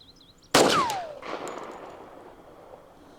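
A single sharp gunshot from a Colt Gold Cup National Match .45 Auto pistol firing Federal American Eagle ammunition at a gravel pit, with a loud crack followed by a long rolling echo decaying across open countryside.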